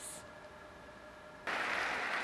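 Applause rises suddenly near the end at a White House gala honouring Joe Biden as host of the NATO summit in Washington, a dense sustained burst of many hands following a quieter murmuring stretch.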